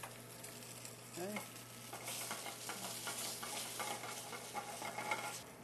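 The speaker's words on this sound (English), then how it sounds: "We're going to cook it skin side down. Put a little salt on the fillet. I just like to add a little whole butter because it gives it a nice crispness to it." A hogsnapper fillet fries skin side down in butter and oil in a pan, a steady close sizzle with occasional stirring scrapes and light spatters, no talk.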